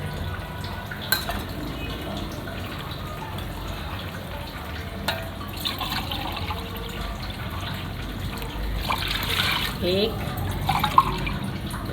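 Water is poured into a pot of beef yakhni pulao, four to five glasses added after the meat has softened, a steady splashing stream with a few clinks of utensils while someone talks over it.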